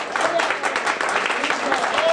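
A church congregation at Faro de Luz in the Bronx, New York, applauds in a dense, steady wash of clapping, with a voice over it.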